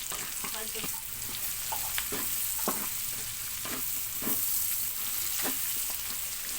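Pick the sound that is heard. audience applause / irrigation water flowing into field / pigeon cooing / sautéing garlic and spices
sautéing garlic and spices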